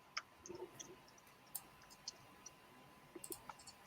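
Light, irregular clicks of typing on a computer keyboard, soft and close, with scattered keystrokes spread across a quiet background.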